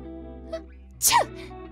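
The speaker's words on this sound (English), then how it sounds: "Oh no, you're sneezing." A single sharp sneeze bursts out after a brief quiet pause, over a faint background hum.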